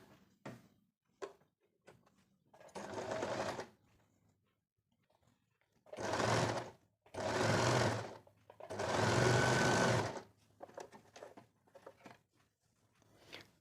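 Sewing machine stitching a ribbon cross piece onto the inside of a neckline on plain fabric, running in four separate bursts of rapid, close whirring stitches separated by quiet pauses and small handling clicks.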